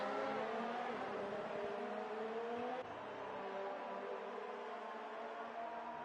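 Formula 2 race cars at a track in Austria running close together, a steady loud engine drone with shifting pitch as they pass through left-hand corners, no talk.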